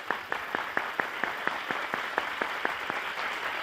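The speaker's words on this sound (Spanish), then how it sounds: "Y un aplauso." A television game show studio audience applauds in a steady, rhythmic clap, moderately loud and continuous throughout, with no voices over it.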